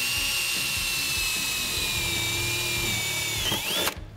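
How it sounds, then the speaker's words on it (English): A power drill bores a hole through a Camaro's metal transmission tunnel, a steady high-pitched whine running loud and close for nearly four seconds before dipping and cutting off abruptly. "We'll drill our hole out."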